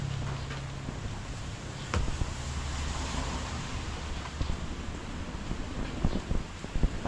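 Strong wind blows steadily across an outdoor roof-building site, a constant broadband rush with gusting buffets and no speech over it.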